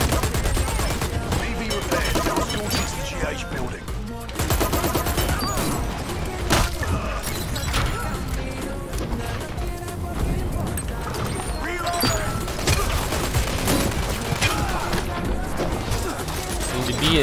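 Shotgun fire in the online shooter Dirty Bomb, a rapid series of sharp blasts and crashes mixed with other combat noise, with voices chatting over the gunfire throughout.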